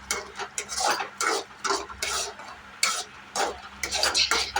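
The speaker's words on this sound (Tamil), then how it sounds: "மஞ்சள் போட்டுக்கலாம். இது போட்டு நல்லா மிக்ஸ் பண்ணிக்கலாம்." Tomato thokku with turmeric stirred in a pan, a series of rhythmic scraping, clinking spoon strokes over a faint sizzle, close and fairly busy.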